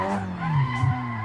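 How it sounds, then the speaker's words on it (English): Tires squealing as a Nissan 200SX drifts in the Assetto Corsa racing game, a loud continuous screech over a droning engine, close and unbroken. "so far, we're doing some pretty clean drifting"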